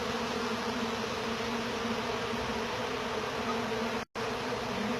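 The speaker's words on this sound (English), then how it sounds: "This little action that they're doing right here is called fanning." Honey bees fanning at a soffit during a live removal, a dense, continuous buzzing hum close by and steady throughout, with a momentary break near the end.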